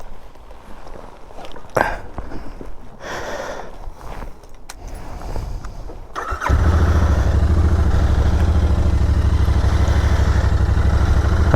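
An Interceptor motorcycle is started after a few seconds of clicks and small handling noises: the engine catches suddenly and settles into a loud, steady idle close by, with no speech.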